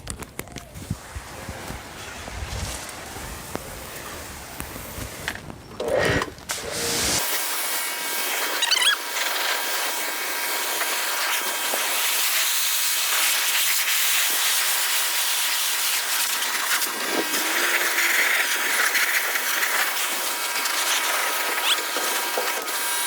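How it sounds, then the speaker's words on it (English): Water spray rinses a Yamaha YZ250 motocross bike, a loud, steady hissing jet that starts abruptly after some quieter handling noises and continues without pause. "All right, rinse her off."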